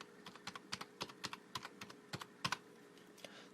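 Typing on a computer keyboard while entering a credit card number on a Nike shopping checkout page: a quick run of sharp, close key clicks in uneven bursts, with no one talking.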